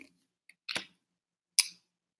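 Tarot cards are shuffled by hand in a few short, crisp riffling bursts separated by silence, close to the listener with no talking.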